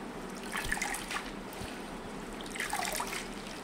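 Vallarai keerai greens being washed by hand in a vessel of water, soft close splashing and trickling in two short bursts, fairly quiet.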